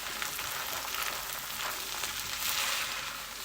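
Fried rice sizzles hard in a pan after soy sauce goes in, a loud, dense crackling hiss, close up and steady, with nobody talking.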